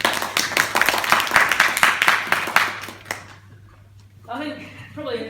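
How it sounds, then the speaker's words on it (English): Applause from an audience for a speaker named Harry at a talk on the subconscious mind, a few seconds of dense clapping that quickly thins out and ends, followed by a voice starting to talk. "Big round of applause"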